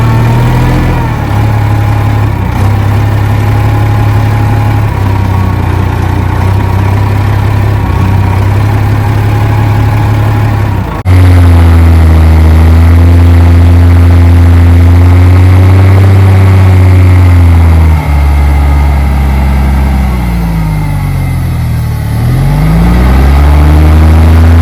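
An old UD diesel dump truck, left sitting for years in a swamp, runs loud and close with a steady low idle that surges into revving partway through, its pitch rising and falling with the throttle.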